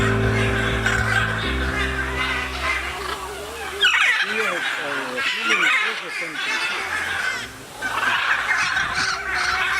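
Caged birds at a bird park near Iguassu Falls on the Brazilian side honk and call loudly in a series of squawks, with a sustained droning tone at the start and people talking nearby.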